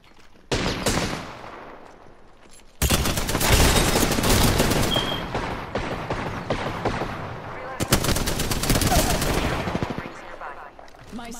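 Heavy gunfire from a combat video game, loud sustained automatic bursts with brief gaps, including shotgun fire, while a player talks faintly underneath.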